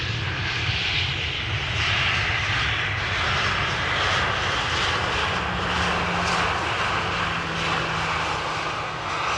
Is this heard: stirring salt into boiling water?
no